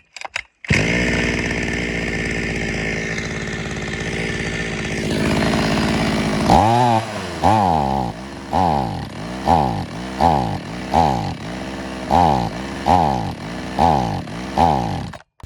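A ZOMAX 5200 Chinese gasoline chainsaw that won't start properly, run on grass for repair: a short pull, a rough high run, then a loud rhythmic cycle of surging revs and dips repeating about every second.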